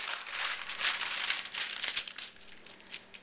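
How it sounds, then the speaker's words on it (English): Parchment paper crinkles and rustles continuously as a sheet is laid over a cake pan for petits fours, with loud crackling bursts that thin toward the end. "place a piece of parchment paper on top."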